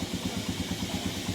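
A Kawasaki Barako motorcycle tricycle engine idles close by with a steady, evenly pulsing low thump, rhythmic and unbroken.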